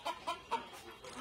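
An old hen clucks softly in a few short, irregular bursts over faint background noise, with no speech.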